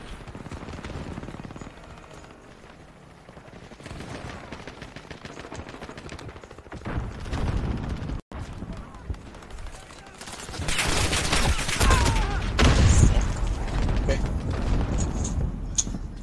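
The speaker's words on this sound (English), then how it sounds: "Hey, stop shooting, I'm up here." Gunfire and automatic bursts in Call of Duty: Warzone, sporadic at first then building into dense sustained shooting with bangs and mechanical clatter, loud and close, with a voice talking over parts of it.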